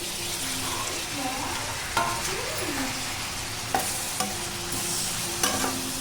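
Tomato pieces go into a pan of frying cucumber and green chillies for a pachadi, bringing a continuous crackling sizzle with occasional sharp taps and scrapes of a stirring spoon, heard up close and without speech.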